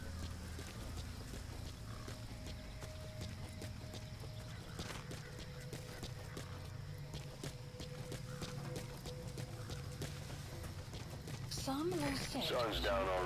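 Hooves of a horse clip-clopping steadily in Metal Gear Solid V: The Phantom Pain, a continuous mid-level trotting rhythm over game ambience, with someone talking over it.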